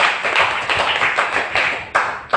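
A church congregation claps together in a rapid, dense burst of applause, loud and close, continuing steadily without speech.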